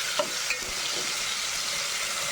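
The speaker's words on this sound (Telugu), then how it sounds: "చక్కగా ఫ్రై చేసేసుకున్నాం కొంచెం గోల్డెన్ బ్రౌన్ కలర్లోకి రావాలి" Onions with ginger-garlic paste fry in a pan for gongura chicken biryani, making a steady close hiss of sizzling with a couple of brief stirring knocks early on.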